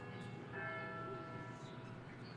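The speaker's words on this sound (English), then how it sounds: "There is our church bell that rings at the top of every hour" Church bell from a nearby Catholic church ringing the hour at a baseball game in Hattiesburg, Mississippi, a faint, distant toll ringing out over crowd ambience.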